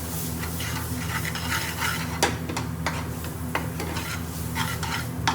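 Spices frying in hot oil with a spoonful of tomato puree stirred in, a steady close sizzle with scraping spoon strokes and occasional sharper clicks against the pan, no voices.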